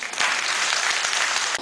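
An audience at a town festival in Petit-Bourg applauds a welcomed guest, a dense burst of clapping from many hands that rises quickly, holds steady and loud, then cuts off.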